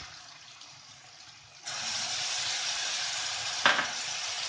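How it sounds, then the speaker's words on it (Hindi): Onion paste added to a pan of ginger-garlic paste for soya chaap curry: after a quiet start, a sudden steady sizzle takes over and continues, with one brief louder burst partway through. "अब इसको अच्छी तरह से थोड़ी देर भूनेंगे, हल्का गुलाबी कलर आने तक भूनेंगे।"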